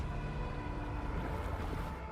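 Steady, loud rush of ocean surf washing continuously onto a beach in the video game Death Stranding 2, a dense wash of breaking water with no voices over it.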